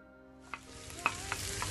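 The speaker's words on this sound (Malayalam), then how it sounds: "അതിൽ നമുക്ക് അണ്ടിപ്പരിപ്പും മുന്തിരിയും വറുത്ത് കോരി എടുക്കാം" Cashews and raisins frying in hot ghee in a pan, with a soft steady sizzle and a few sharp clinks and stirring scrapes, close by and with no talking.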